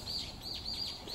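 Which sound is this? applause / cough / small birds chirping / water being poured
small birds chirping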